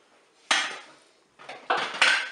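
A spoon stirs a cornflour-thickened sauce in a Cookeo cooker, making a few sharp metallic scrapes and clinks against the pot in separate bursts, close up and with no talk.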